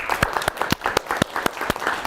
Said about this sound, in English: Give Scott a round of applause.